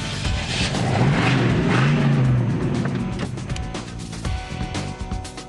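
A muscle car pulls away and accelerates, its engine revving loudly and rising before the roar fades and passes off, with some rattling and bumps toward the end; no one speaks.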